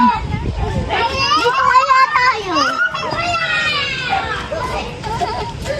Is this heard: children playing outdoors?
yes